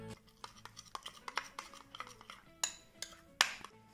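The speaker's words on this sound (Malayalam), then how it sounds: "ഇത് നമുക്ക് നല്ലോണം മിക്സ് ചെയ്ത് കൊടുക്കാം." Spoon scraping and clinking against a bowl while room-temperature butter is mixed with garlic and chopped coriander, a quiet run of irregular taps and scrapes with a few sharper knocks, close and alone.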